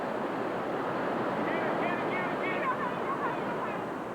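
Floodwater rages through streets turned into a river, a dense, continuous roar of rushing water with steady loudness throughout and no clear voices.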